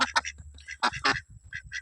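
Several loud, close duck quacks come in quick bursts, separated by short pauses, with faint low background noise between them.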